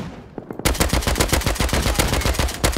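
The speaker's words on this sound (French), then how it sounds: "Je suis derrière le mec qui tire M2 là." An M2 heavy machine gun fires a long, steady burst in the video game Rust, with loud, evenly spaced rapid shots.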